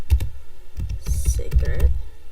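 Computer keyboard typed on while entering router commands during a Telnet and SSH setup lesson; quick, irregular clicking keystrokes sound close and fairly loud, with no one talking.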